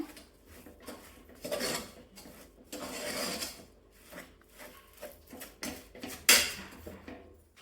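Lentils and powdered sugar stirred in a pan on the stove, a spoon scraping and clinking against the metal in uneven bursts, close and fairly quiet, with one sharper clatter near the end.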